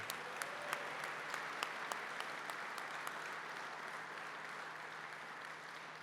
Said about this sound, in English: Another round of applause, if you can, for Damon and John